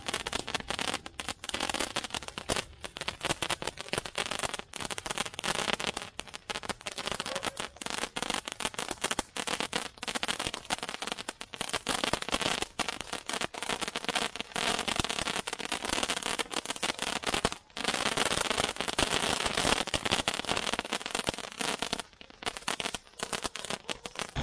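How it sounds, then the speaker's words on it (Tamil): A long Diwali firecracker string of Sivakasi crackers bursts in a dense, rapid run of sharp pops and crackles. The bursts go on almost without a break for over twenty seconds, with only a few brief gaps. "சின்ன சரம் இருக்குல்ல சரம் அது வெடிக்கிற மாதிரி இருந்தது சின்னதா டப் டப் டப்னு"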